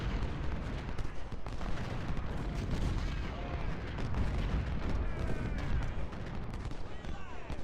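Cannon fire and musket volleys in Ultimate General: Civil War, a far, constant battle din of low booms and crackling shots with no break, with a voice talking over it.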